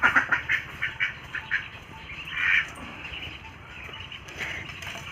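Small ducks quack in a short burst of repeated calls near a pond, loud at first then tapering into quieter background sounds.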